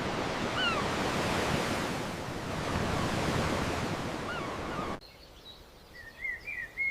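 Sea waves wash and surge steadily beside the white chalk stacks of Old Harry, loud and close, then fade abruptly, leaving quiet with faint bird calls.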